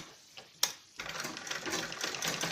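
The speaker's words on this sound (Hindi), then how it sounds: "इसके ऊपर हम एक ऐसे सिलाई लगा लेंगे मजबूती के लिए" Sewing machine stitching fabric for a balloon salwar: a couple of short clicks, then a fast, even, continuous whir of stitching close by.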